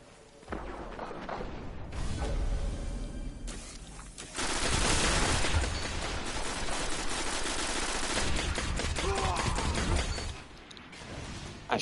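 Sustained automatic weapon fire from the shooter game Destiny, loud and close, rattling in long bursts with heavier blasts in the middle stretch before fading near the end.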